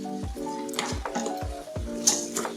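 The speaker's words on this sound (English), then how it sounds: "Stir until well combined" Black beluga lentils with salt and a bay leaf are stirred in an Instant Pot on its browning setting. A spoon scrapes with repeated dull thumps against the inner pot over a steady hum and light sizzle.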